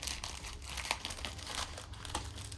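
Scissors snip through crinkly plastic blind box packaging, producing a run of soft crumpling and crackling cuts with a few sharper snips, close and quiet with no talking.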